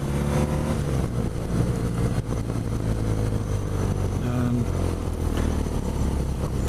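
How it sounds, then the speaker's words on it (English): A 2017 BMW R nineT Pure motorcycle's loud, rough exhaust roars continuously close to the microphone, with the harsh crackle of an unmuffled pipe. "Sounds like a straight pipe exhaust."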